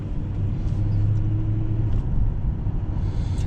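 Low steady engine rumble and road noise fill a Lincoln Town Car cabin while driving, smooth and constant with no talking.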